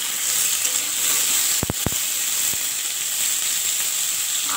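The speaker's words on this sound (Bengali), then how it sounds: "এবার এই আলুগুলোকে একটু ভালো করে আমি ভেজে নেব।" Potatoes frying in a pan give off a steady, close sizzle with a bright hiss throughout, broken around the middle by a few sharp scraping stirs.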